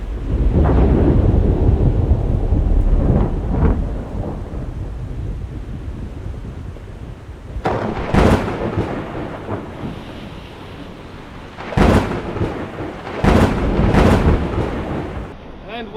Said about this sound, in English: a very stormy night of rain and thunder and lightning